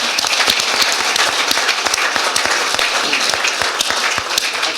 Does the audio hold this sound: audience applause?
yes